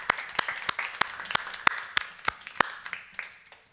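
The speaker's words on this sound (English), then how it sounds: "people can clap. Was there some clapping?" A small audience at a talk claps sparsely, separate sharp claps spaced irregularly and fading after a few seconds, with no voices over them.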